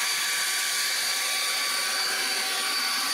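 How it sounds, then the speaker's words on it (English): Leaf blower clearing dust and loose particles from a crack in a concrete driveway, a steady loud broadband whoosh with a whining motor tone running unbroken throughout, no talking. "This can be done with a blower."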